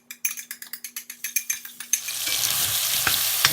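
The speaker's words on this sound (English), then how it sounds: "So you want to keep stirring this as it's cooking for around 2 to 3 minutes" A spice mixture is stirred in a Dutch oven: a rapid run of rhythmic scraping clicks, then the oil catches and a loud steady frying sizzle takes over, close and without talking.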